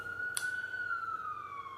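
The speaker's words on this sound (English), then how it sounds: "it's a siren." A siren wails faintly in the distance, one steady high tone sliding slowly downward over a low background hum, with a brief sharp burst near the start.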